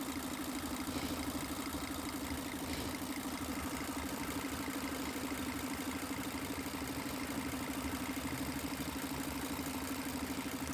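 A Mercedes-Benz Actros 3340 truck with low pulling power and weak cylinder pressure runs steadily at idle, its engine giving a constant close, even drone with a rhythmic low pulse and no talk over it.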